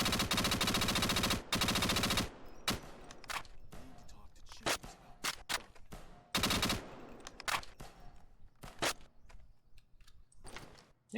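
Modded weapon fire in the video game Payday 2: loud bursts of automatic gunfire, then a string of separate shots and mechanical reload clicks, with another burst in the middle.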